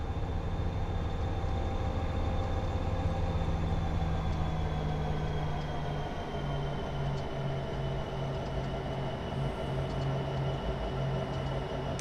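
EMD SD75 diesel locomotive pulling a train in Train Simulator 2017, a steady low engine drone with tonal hum, running continuously at moderate level with no talk.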